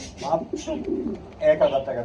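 Pigeons coo softly in short rounded calls at a pigeon farm, mixed with background chatter from people nearby.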